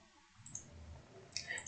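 Mouse clicks on a computer while working in AutoCAD 3D, two or three short, light taps spaced apart over a quiet room background with no talking.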